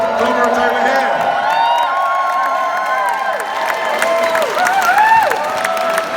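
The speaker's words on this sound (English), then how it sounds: "Let's give them a big round of applause" A crowd at a charity night out applauds and cheers steadily, clapping and whoops blended into a continuous, fairly loud roar with brief shouts.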